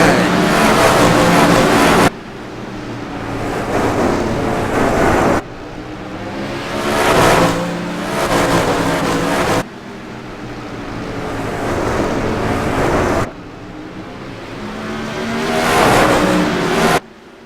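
Several 360 sprint cars throttle up together on a green-flag restart at Irwindale Speedway, a loud sustained engine roar that surges in waves, broken by abrupt cuts and swelling again over about seventeen seconds.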